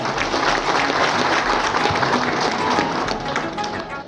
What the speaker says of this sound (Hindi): सतीश सर के लिए जोरदार ताली हो जाए